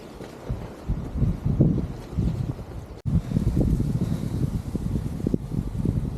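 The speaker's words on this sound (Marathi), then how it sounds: "वारं भरपूर सुटलं आहे भरपूर आवाज येतोय" Strong wind roars steadily across a mountain trail on a fort trek, buffeting the microphone in loud continuous gusts with no talking.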